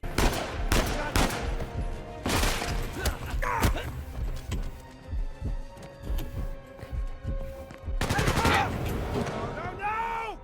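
Repeated bursts of gunfire from Uncharted 4 on its hardest difficulty, loud volleys and rapid automatic fire scattered through the clip with thuds and footsteps between, and a voice talking over parts of it.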